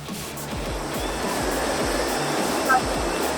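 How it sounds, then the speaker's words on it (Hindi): Water rushes under pressure through a mill channel that turns a water-powered grinding mill, a loud continuous roar with faint rhythmic low thumps beneath it. "इसका पानी खोल रखा है तो ये नीचे पानी का प्रेशर जा रहा है इसमें,"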